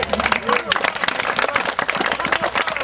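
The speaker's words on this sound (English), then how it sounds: "give him some applause" An audience claps for the Tavern Keeper in a family show, lively uneven clapping mixed with a speaking voice over the top.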